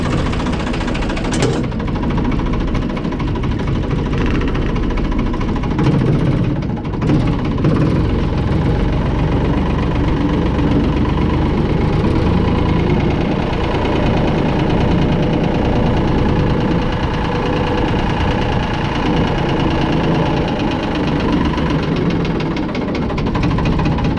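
A Kubota M6060 tractor engine idles steadily and loud nearby for the whole stretch, with a low, uneven knocking throb and a rattle of vibration, and no talk over it.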